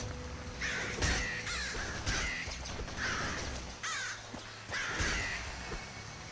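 Crows caw in the video game Nuclear Throne, about six harsh, raspy calls at roughly one-second intervals, fairly faint over a low background drone.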